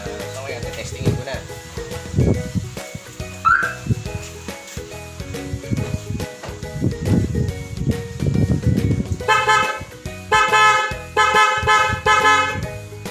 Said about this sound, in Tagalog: So tapos na ngayon yung busina.